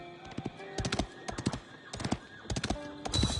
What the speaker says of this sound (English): With each gallop of his horse's hooves, more of Guillaume's land was revealed to him.